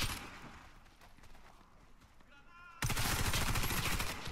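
Rapid automatic fire from an ACR CQB rifle in the shooter game Warface bursts in loud and dense partway through. Scattered softer gunfire and movement sounds come before it, and there is no talk.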